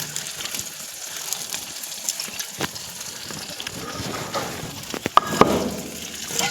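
Tap water runs and gushes while something is rinsed during home cooking, an uneven splashing flow with a few sharper knocks and surges toward the end.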